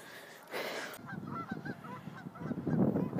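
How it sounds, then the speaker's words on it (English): Geese honk repeatedly outdoors as they are scared off, a cluster of nasal calls at moderate distance with a brief rustling burst at the start and no talk. "There's some geese Chuck just scared away by barking at them."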